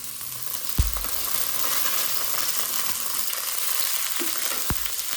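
Carrots go into a hot pan of fragrant spices for a vegetable stir-fry, giving a steady broadband sizzle throughout with a couple of sharp clatters and scrapes of a utensil against the pan; no one speaks.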